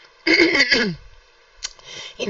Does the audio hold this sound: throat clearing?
yes